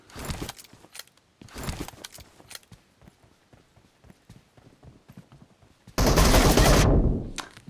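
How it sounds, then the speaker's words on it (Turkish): Gunfire in PUBG Mobile comes as rapid bursts of shots. A sharp cluster opens the clip, a louder sustained burst follows near the end, and quieter clicks and movement sounds fill the gaps. "ben sola sıkıyorum Yusuf sağda"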